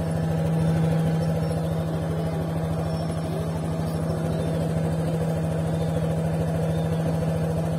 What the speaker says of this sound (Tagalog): Tapos pag in-start ko siya, yan, ang lakas pa rin ng vibrate niya kung naririnig nyo.